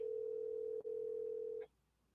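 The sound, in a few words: outgoing phone call ringing tone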